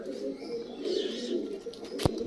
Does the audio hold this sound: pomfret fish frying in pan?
no